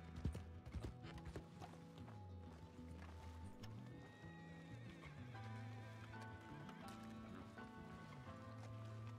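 A horse in the game Red Dead Redemption 2 (RedM roleplay) whinnies and neighs with clip-clopping hooves, steady and fairly close over a low game background for about nine seconds, with a faint voice in places.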